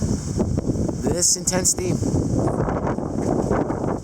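A strong wind gusts and roars in Kelowna, British Columbia, during a June 2021 windstorm, buffeting the microphone with a rough low rumble while a person speaks briefly over it.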